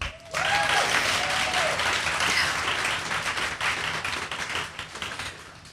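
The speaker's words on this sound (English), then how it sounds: "all of you deserve a huge round of applause for that" Audience at a philanthropy gathering breaks into a loud, sustained round of applause lasting several seconds, dense and steady before thinning slightly near the end.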